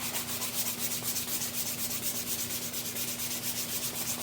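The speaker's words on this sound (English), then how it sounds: "I'm going to sand this again lightly" A DIY Les Paul guitar body kit is lightly sanded by hand, with even back-and-forth strokes in a steady rhythm, close and moderately loud over a faint constant hum.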